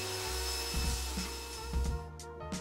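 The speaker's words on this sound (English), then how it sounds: "Finish with a soft nylon roto brush with the same speed on the drill." A soft nylon roto brush driven by a drill spins against waxed alpine racing skis, giving a steady whirring drone with brief scrubbing surges as the brush passes along the base, close and alone.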